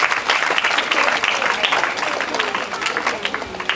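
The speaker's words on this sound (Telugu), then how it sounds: "ఒకసారి గట్టిగా చప్పట్లు కొట్టండి" A church congregation applauding, dense, fairly loud clapping from many hands filling the room continuously throughout.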